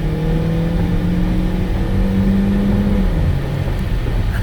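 A Saab 9-3 SportCombi with a 2.0-litre turbo four-cylinder accelerates hard, its engine note rising steadily under load in a loud, continuous drone before the pitch drops at a gear change near the end.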